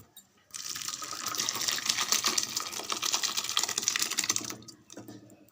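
A tempering sizzles after being poured into sambar, a sharp, hissing crackle that starts abruptly, holds steady for about four seconds, then fades.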